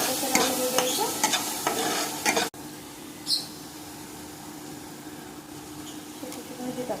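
Dill greens and soaked moong dal stir-fried in a pan make a steady sizzle under scraping stirring strokes, with a brief pause and occasional clinks of the spoon.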